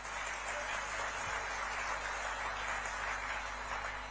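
A crowd at an Arvind Kejriwal Lok Sabha election campaign launch in Gujarat gives loud, dense applause for the media. The clapping rolls on as a steady, unbroken wash of noise with no voices over it.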